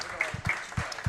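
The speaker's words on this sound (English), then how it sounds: "Here he gets a round of applause." A studio audience briefly applauds hockey player Josh Doan's arrival on a show, a short spell of soft, scattered clapping with a few separate claps, fairly quiet and close.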